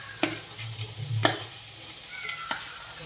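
Potatoes and boiled peas being stirred into samosa filling in a pan, a few distinct scraping strokes of the spoon against the metal with a soft low sizzle underneath, close and moderately quiet, no talking.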